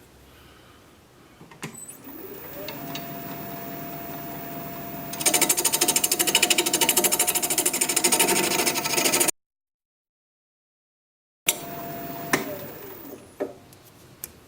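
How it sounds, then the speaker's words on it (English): A wood lathe turning a goblet while a roughing gouge cuts, a steady motor hum joined by a louder gritty scraping that runs for several seconds, then a cut and a brief return of the hum. "I'm going to go back to the roughing gouge."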